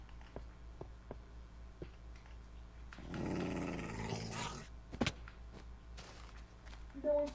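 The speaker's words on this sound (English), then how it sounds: "There's a really mad dog. He's killing a sheep." A low, rough dog growl in Minecraft rises for a couple of seconds amid sparse clicks and taps, with a game-like electronic backdrop, the dog attacking a sheep.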